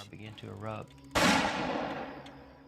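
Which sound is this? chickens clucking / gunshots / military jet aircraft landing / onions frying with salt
gunshots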